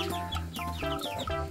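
Five-week-old Black Ameraucana chicks clucking in a backyard weekend coop, a busy run of short overlapping clucks and peeps at moderate level, close by, with no talk over them.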